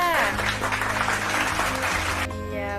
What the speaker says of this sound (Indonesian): Beri tepuk tangan untuk Tiara.